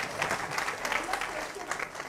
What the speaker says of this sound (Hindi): देखो ताली बजा दो